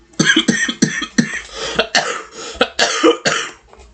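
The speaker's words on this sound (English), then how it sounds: "if you hear me coughing a lot in this video" A series of harsh coughs in uneven bursts, about a dozen over a few seconds, close and loud, with a throat-clearing sound among them.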